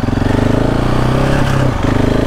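Steady droning engine of a KTM 690 Enduro R single-cylinder motorcycle cruising on a motorway, loud and close with a constant pulsing tone, wind rumble underneath and a brief dip in pitch.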